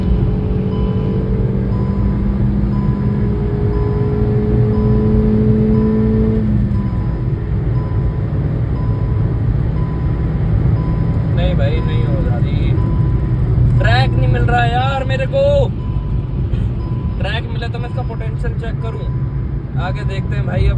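A Hyundai i10 Nios accelerates hard on a top-speed run, its engine note climbing steadily before a gear change, then droning on under loud road rumble while someone talks.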